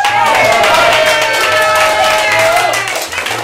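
An audience at an improv comedy show applauds and cheers, a dense, loud wash of clapping that runs throughout, with voices and a low hum mixed in beneath.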